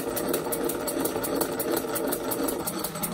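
A small double-acting oscillating engine runs on compressed air, a rapid, even mechanical chuffing and ticking repeating steadily throughout, close and moderately quiet with no voices.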